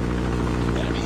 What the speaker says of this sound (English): Deployed chopper gunner.